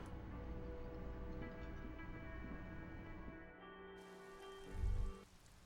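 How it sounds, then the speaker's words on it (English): Rain in Disco Elysium falling on the city of Revachol, a soft continuous patter and drip under a sustained musical drone, faint and steady, with a brief low thump near the end. "Rain drips from the eaves and floods the gutters, washing the filth away."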